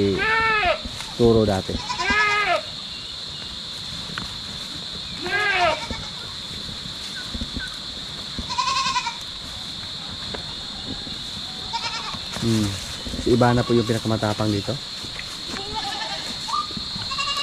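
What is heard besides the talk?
goats bleating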